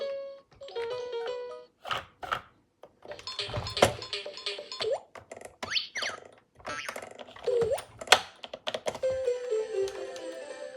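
Bright electronic tones and beeping key melodies from a plastic toy guitar with lit-up keys play in quick succession, with clicking button presses between the short tuneful bursts.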